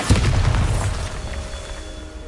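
A Bombarda blasting spell in Hogwarts Legacy detonates as a loud, close boom that starts abruptly and rumbles out in a decaying roar over about two seconds.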